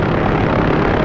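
An OH-6A helicopter in the DCS combat flight simulator gives a steady, loud, unbroken engine and rotor drone for about a second, with no voices.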